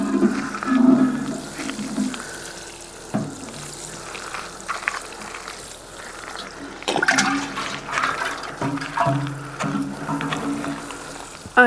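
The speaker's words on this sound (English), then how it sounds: "Right now I'm just watering in the basil." Basil plants in a sunny Swedish vegetable garden are watered. Close, steady splashing and trickling runs for several seconds, shifting as the flow moves around, with no voices.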